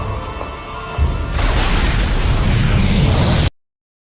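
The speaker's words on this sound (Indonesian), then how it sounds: "mereka pun menempatkan bom nitrogliserin terakhir dan meledakkannya" A nitroglycerin bomb blasts through an ice wall in a film scene, a sudden loud boom that swells into a rushing, crumbling roar and then cuts off abruptly. A quieter tonal soundtrack plays before the blast.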